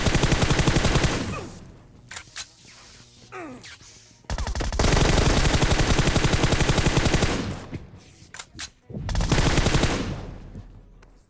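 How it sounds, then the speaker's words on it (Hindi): Groza assault rifle firing in Battlegrounds Mobile India, loud sustained full-auto bursts that rattle for seconds at a time, broken by short pauses and scattered single shots. "ये सही टाइम पे ग्रोजा चलाता है"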